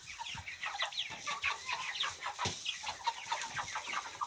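Young incubator-hatched chickens, a mix of growing roosters and hens, clucking and chirping in a busy overlapping flock, with quick repeated calls close by and no talking.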